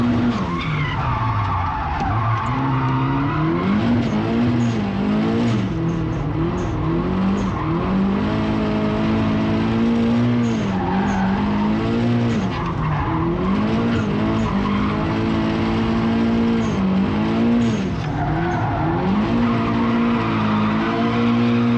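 A drift car on a competition run at a festival of speed, skidding with tires squealing over a loud, continuous engine that rises and falls with throttle throughout, with no talking.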